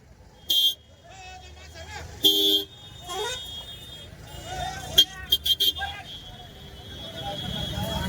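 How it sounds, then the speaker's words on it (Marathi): Car and truck horns toot in short bursts through a traffic jam on the Nagar–Manmad highway after an accident, nearby and loud, over a steady engine rumble while people talk throughout. "बहुत इधर गर्दी हो, आगे भी ट्रैफिक है."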